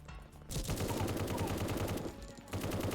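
Rapid bursts of automatic gunfire crackle loudly and almost continuously in the military shooter video game A.W.O.L., with a brief lull before the firing resumes. No talking.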